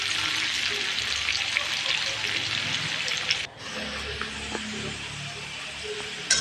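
Potatoes with salt and turmeric fry in a pan and are stirred, making a loud, close, continuous sizzle. Scraping stir sounds and a short dip come partway through.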